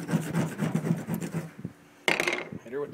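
Short, rough scraping strokes work leftover emblem adhesive off a car's body, a quick run of rasping passes followed by a pause and a brighter final scrape, close and fairly quiet.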